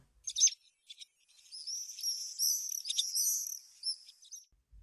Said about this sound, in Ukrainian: Ластівка.